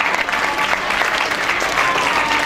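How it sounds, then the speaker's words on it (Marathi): Audience applauding steadily at a Science Olympiad prize distribution felicitation, a dense, continuous wash of clapping from a crowd with no pauses. "जोपर्यंत या मान्यवरांचे सत्कार होत आहेत तोपर्यंत आपण टाळ्या वाजवत राहिल्या पाहिजे"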